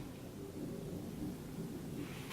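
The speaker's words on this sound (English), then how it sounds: "It is storming out there. So if you hear thundering and lightning and all that stuff, because it's raining." Distant thunder rumbling low and steady during a rainstorm outside a house, faint with a soft hiss of rain and no voices.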